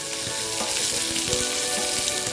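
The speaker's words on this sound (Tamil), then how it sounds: "1 வெங்காயம் பொடியாக நறுக்கி சேர்த்துக்கலாம்" Finely chopped onion hits hot oil already crackling with cumin and curry leaves for a drumstick-leaf sambar, giving a loud, steady sizzle with quick spitting pops and the occasional stir, close to the pan.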